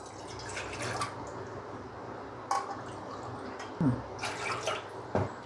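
Two cups of milk poured into a pot for a no-bake mango jello pudding: soft liquid trickling and dripping with a few brief clinks, fairly quiet and intermittent, with no talking.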